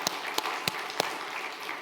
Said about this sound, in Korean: 우리 오늘 찬양 너무 은혜스럽게 됐는데 박수 한번